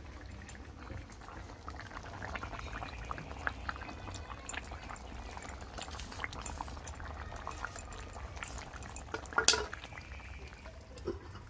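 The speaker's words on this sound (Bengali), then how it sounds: "এবারে আমরা এর মধ্যে পেঁয়াজ বেরেস্তাটা দিয়ে দেব।" Fried onions go into a mutton curry cooking in a pot, with a steady bubbling simmer, soft liquid stirring and a sharp clink of a utensil near the end.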